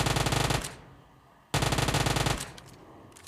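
Two loud bursts of rapid automatic gunfire in a video game, close and sharp, separated by a short pause, with faint echoing tail after each burst.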